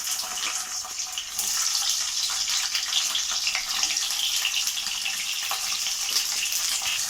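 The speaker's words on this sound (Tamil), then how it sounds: "இப்போ வந்து இதை எண்ணெயில் நல்லா ஃப்ரை பண்ணி எடுத்துக்கலாம்" Cut ivy gourd pieces frying in hot oil over a medium flame, a steady broad hiss and sizzle that rises slightly after the first second and then holds evenly, close and fairly loud, with no talking.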